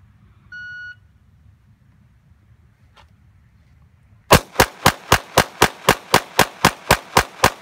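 A single electronic shot-timer start beep sounds at a shooting range, followed after a pause by a rapid string of about a dozen loud, evenly spaced gunshots fired close by.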